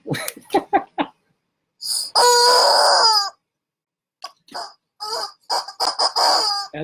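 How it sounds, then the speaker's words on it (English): Chicken clucking and squawking comes in loud, close bursts, with a long harsh call near the middle and choppy clucks before and after. "That's chicken."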